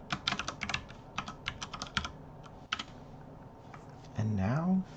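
Rapid bursts of clicking keystrokes on a computer keyboard while renaming a folder, close and crisp, pausing briefly before a short burst of voice near the end.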